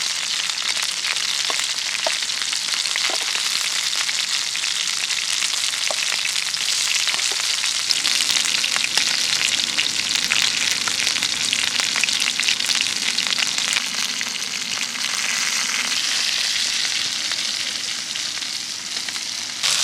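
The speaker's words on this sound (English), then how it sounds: "And try and sear that side first." Steak and mushrooms sear in a pan at a campsite with a loud, steady hiss and crackle that stays close and continuous throughout, with no talking.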